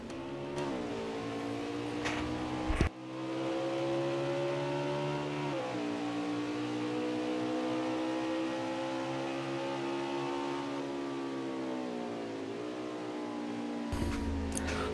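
Race car engines at Watkins Glen drone in a steady, sustained tone, pitch rising and falling as the cars shift and hold speed, with a couple of sharp bursts marking changes before the note carries on evenly.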